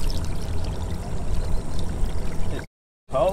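Cold salt water pours steadily into a container, a continuous gushing stream that stops abruptly near the end before a brief splash resumes.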